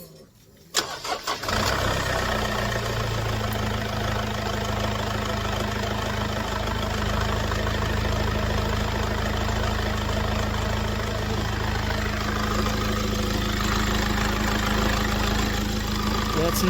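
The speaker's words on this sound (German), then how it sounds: "Jetzt Motor so ruhig geworden. Das läuft ruhig." A Mercedes W204 engine cranks and catches about a second in, then settles into a steady, even idle heard up close, holding a smooth unbroken drone to the end.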